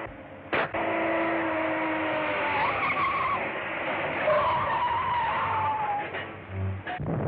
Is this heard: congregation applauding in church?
no